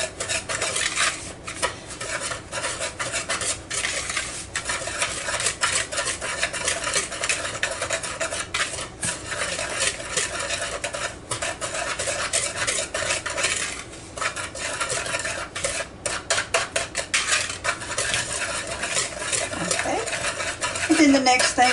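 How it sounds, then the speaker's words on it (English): A spoon or whisk stirring chocolate pie filling ingredients in a pot, continuous scraping and clinking against the metal, close and busy with irregular rhythm, alone without talk. "we're going to get this stirred up together first before we do anything else"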